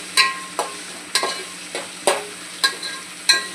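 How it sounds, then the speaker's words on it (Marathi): Ginger, green chili and garlic paste sautéing in hot oil, with a steady sizzle under about seven sharp, rhythmic spatula strokes scraping the pan, close and fairly loud. "आवाज असा येईपर्यंत मस्त आपल्याला असं परतवून घ्यायचं।"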